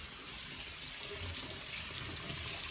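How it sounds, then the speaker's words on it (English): A faucet runs steadily into a sink as hands are rinsed under it, making a continuous, even hiss of flowing water at moderate volume from start to finish, with no voices. "Then I'm going to turn on the water. Let's rinse them off and see what happens."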